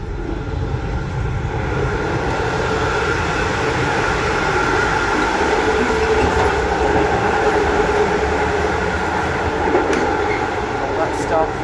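A Melbourne train rolls past with a steady, smooth roar and rumble that holds constant and loud throughout, with no clear voices over it.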